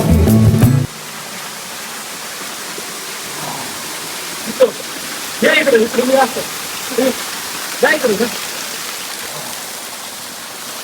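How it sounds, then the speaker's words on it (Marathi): A waterfall at Varvand Chor Odha stream gives a steady, even rush of falling water in the background while people talk briefly over it. "तुम्हाला हा धबधबा कसा वाटतोय"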